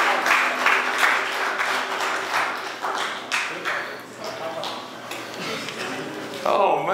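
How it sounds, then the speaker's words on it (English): Audience clapping for Kathy at an election results press conference, a sustained patter of hands with sharper individual claps standing out, while people talk over it. "Y'all can clap for Kathy too."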